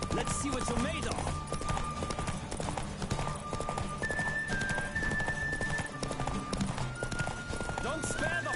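Galloping horse hooves from The Witcher 3, a steady run of clip-clop beats mixed with game music and a voice talking over them throughout.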